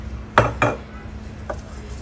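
A metal baking tray is handled in a home kitchen while preparing baked potatoes with cheese and minced meat, giving two sharp clanks close together, then a lighter knock a moment later.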